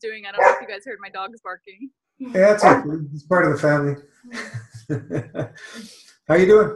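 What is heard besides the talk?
dogs barking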